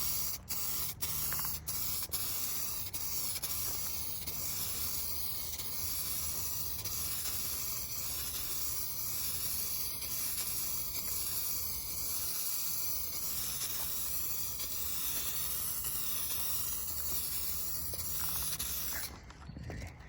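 Spray gun laying basecoat paint onto an Acura RSX, a steady continuous hiss running close and loud for nearly the whole stretch, with a few brief clicks of the trigger at the start.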